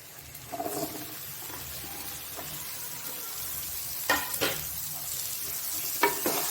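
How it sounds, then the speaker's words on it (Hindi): Vegetables are tipped into a hot frying pan and stirred for a Govardhan Annakut Diwali dish, giving a steady close sizzle with clattering bursts as pieces drop in and get mixed. Nobody talks. "तो हम इसमें सारी सब्जियां एक एक करके डाल देंगे।"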